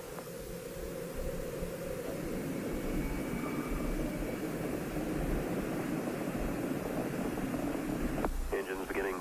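Space Shuttle Challenger's main engines roar steadily during launch: a loud, continuous broadband rumble that holds for the whole stretch, with a faint radio-style voice joining near the end.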